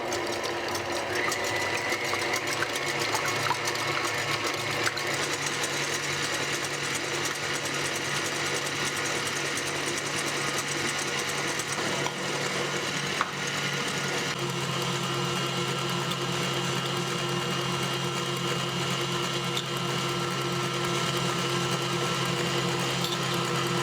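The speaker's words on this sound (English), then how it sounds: "And I will start to beat the eggs, and once they get a little bit foamy, I will add" Electric mixer beats egg whites with salt and sugar in a bowl, a steady close buzzing whir running without a break, its tone shifting slightly partway as the mixture thickens.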